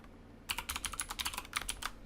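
Quick bursts of typing on a computer keyboard, a rapid irregular run of close, crisp key clicks lasting under two seconds after a brief quiet start.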